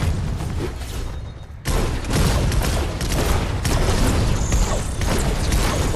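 Gunfire and explosive booms in Fortnite's Marvel 3v3 mode, a dense, loud clatter of rapid shots and blasts that jumps up sharply after a quieter opening and keeps going without a break.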